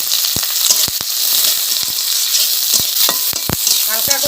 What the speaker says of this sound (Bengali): এই মশলাগুলো আমি তেলে ভেজে নেব।